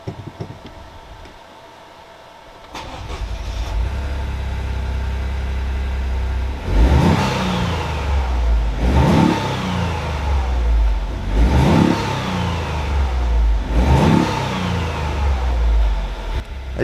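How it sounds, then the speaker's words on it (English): A Toyota GR Yaris engine fitted with a cold air intake revs hard four times in a row, each rise in pitch followed by a drop back to a steady idle, loud and close. "I love how this car sounds with an intake."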